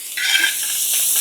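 Green chilies hit hot sunflower oil in a cooking pot with a sudden bright sizzle that settles into a steady frying hiss, close and loud, with no voices.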